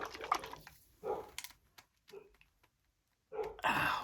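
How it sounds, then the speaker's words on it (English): Several dogs barking in short bursts, moderately loud and close, in a quiet room with pauses between outbursts. "my dogs are barking"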